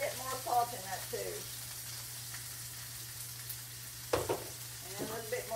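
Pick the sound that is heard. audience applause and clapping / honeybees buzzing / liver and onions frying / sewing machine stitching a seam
liver and onions frying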